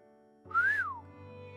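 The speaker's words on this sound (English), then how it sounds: "He whistled." One short rising-and-falling whistle from a person, a clear single note sliding up and back down, heard alone against a quiet background hum.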